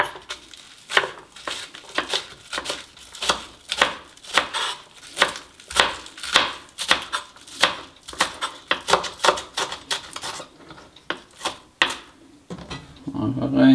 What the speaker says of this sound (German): Zwiebeln. Schneide mal schräg.